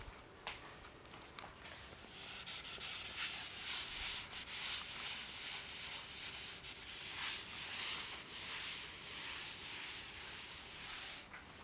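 Writing is erased from a board during a maths class, a dry, continuous rubbing scrape of strokes that runs throughout at a moderate, close level with no talking.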